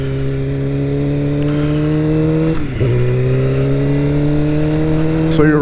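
A 2008 Suzuki GSX-R600 motorcycle holds a steady, loud engine drone at cruising speed, with one brief dip in pitch midway before it settles back to an even, close-up hum.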